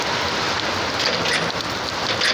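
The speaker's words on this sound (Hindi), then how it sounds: "भाई बारिश स्टार्ट हो चुका है" Rain falls steadily outdoors, a dense, even hiss of drops on surfaces that holds throughout with no talking.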